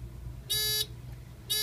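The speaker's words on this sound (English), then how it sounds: "You can hear the panel's internal buzzer is going off." The internal buzzer of a Faraday MPC-2000 addressable fire alarm panel sounds shrilly in two bursts of about a third of a second each, separated by a pause, over a low steady hum.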